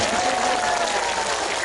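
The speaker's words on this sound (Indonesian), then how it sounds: "Keren, tepuk tangan untuk Kebumen." Audience applause at a religious gathering (pengajian) in Kebumen, a steady dense wash of clapping held at even loudness for the whole stretch, close and full with no voices breaking through.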